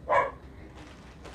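An excited pet dog lets out a single short bark near the start, then the room falls quiet apart from faint background noise, with another brief sharp sound right at the end.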